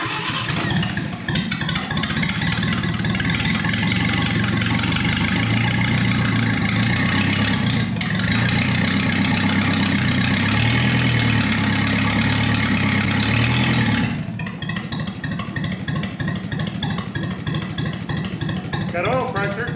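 An old engine, choke being adjusted, runs steadily at idle and loud throughout, with a slight change in tone near the end.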